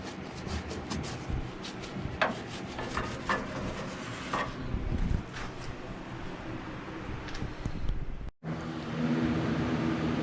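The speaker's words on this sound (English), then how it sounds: "we already been polishing on it" A classic car gets polished and cleaned by hand, giving a steady rubbing and scrubbing texture with a few sharp knocks. It stays close and moderately loud throughout, with one brief dropout near the end.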